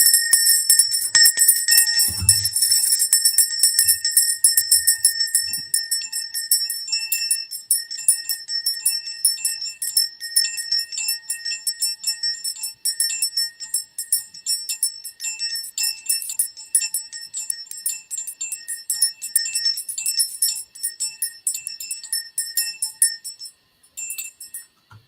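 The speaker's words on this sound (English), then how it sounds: "I got my little bell too." A small hand bell rings steadily in rapid, bright shakes, with a shimmering metallic tone that stays continuous and fairly loud for the whole stretch before briefly stopping near the end.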